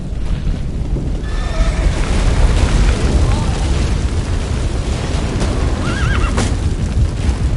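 Horse in The Witcher 3 video game whinnying in a couple of short neighs amid loud game sound effects, rumbling booms and a spoken line.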